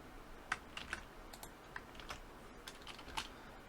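Soft keystrokes on a computer keyboard while code is written, quiet irregular clicks with a few sharper taps and short pauses, with no talking.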